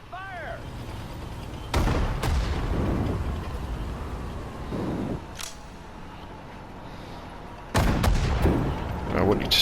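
Artillery guns fire on a World War II battlefield in Sudden Strike 4, loud sharp booms at about 2 seconds and again near 8 seconds, each followed by a rumbling tail over background battle ambience.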